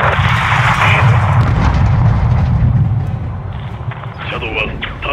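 A missile strike destroys a greenhouse in Call of Duty: Modern Warfare II, a loud sustained rumbling blast with heavy low-end roar that gradually settles into debris and crackling, with voices talking over it.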